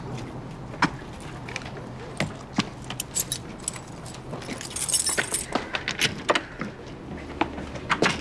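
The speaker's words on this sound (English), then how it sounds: "It's my keys." Keys jangling close by, a series of bright metallic clinks and rattles scattered across the clip over quiet room tone.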